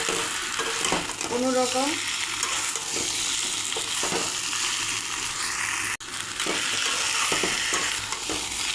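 Chicken kasha stir-frying in a pan, a continuous close sizzle with periodic scraping and clattering stirs, a brief voice speaking early, and a sudden short cut in the sound midway.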